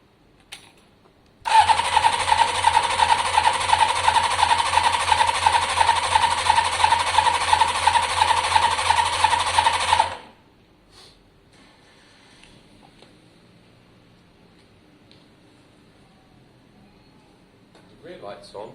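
Kawasaki ZL600 motorcycle with carburetor float trouble cranking without firing, a loud continuous whirring starter drone lasting about nine seconds, then near-silence with faint handling noises.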